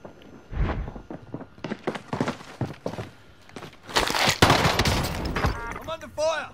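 Scattered gunshots and short bursts crackle through a Call of Duty battle, irregular and close, with a denser volley near the end and a voice speaking between shots.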